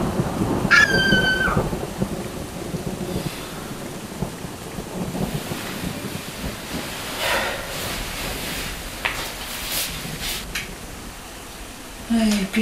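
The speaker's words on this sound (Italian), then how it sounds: "è solo un tuono" Thunder rumbles low and drawn out through a thunderstorm, with steady rain hissing throughout and a bright, sharp cry near the start.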